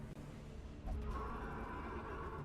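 A horse whinnies over a steady background of game music and ambient noise, the neigh rising briefly before fading into the continuous mix.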